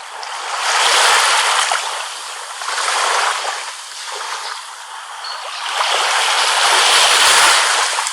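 Ocean waves surge and crash in broad, rolling swells of hiss, rising and falling loudly with no voices present.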